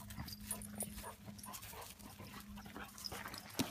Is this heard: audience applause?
no